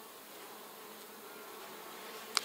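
Honey bees hum inside a small nuc box, a faint, steady buzz with no voices and a single brief click near the end.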